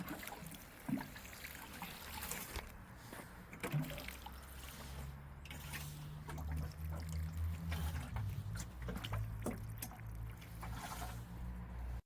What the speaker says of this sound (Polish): no to też warto je podlać, bo hortensje lubią wodę